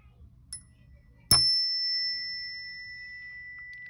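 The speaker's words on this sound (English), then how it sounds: "I'm going to play the chime and I'd like you to listen until you can't hear the sound" A single chime is struck once, ringing out clear and bright, then a long pure tone slowly fades away in a quiet room, with faint soft voice and movement before the strike.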